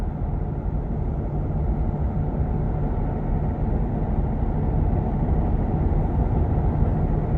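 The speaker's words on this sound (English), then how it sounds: "this is driving in quiet mode" A Ford Mustang GT fitted with an ARMYTRIX exhaust cruises at around 40 to 50 mph in quiet mode, giving a steady, subdued low engine drone mixed with road rumble that stays constant throughout.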